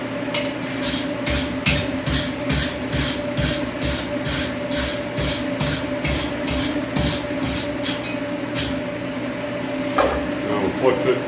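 Induction-heated forge weld being crushed in a press, a steady mechanical hum with a rapid series of sharp hissing pulses repeating about every half second, then a brief clatter near the end.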